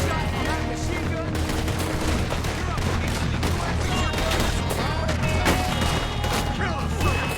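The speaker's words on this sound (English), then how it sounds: "Has anyone got a shot from that machine gun?" Dense, continuous machine gun fire and scattered gunshots crackle without letup in a Red Dead Redemption 2 train ambush battle, loud and close, with shouting voices mixed in.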